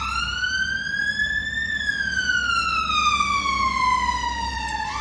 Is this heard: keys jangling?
no